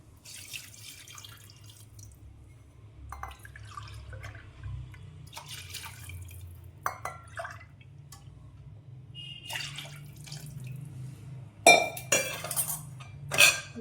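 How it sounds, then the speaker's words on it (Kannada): Buttermilk poured into a cooking pan on a low gas flame for North Karnataka jolada nucchu. Soft liquid splashing comes with intermittent clinks of a ladle and utensils, close and fairly quiet, without speech. "ಸೊ 3 ಬಟ್ಲದಷ್ಟು ಮಜ್ಜಿಗೆ ಹಾಕ್ಕೊತೀನಿ"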